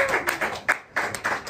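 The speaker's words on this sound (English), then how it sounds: "So give it up for on drums, Ping-Pong on the drums." A small crowd at a jazz quartet gig claps for the drummer in short uneven bursts that fade briefly and then pick up again, heard close and fairly quiet.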